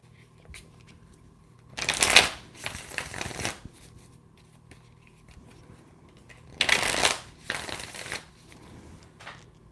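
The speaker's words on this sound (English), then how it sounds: "I'm just shuffling." Tarot cards are shuffled in two distinct bursts of crisp riffling, close and fairly quiet, with brief softer card rustles between them in an otherwise quiet room.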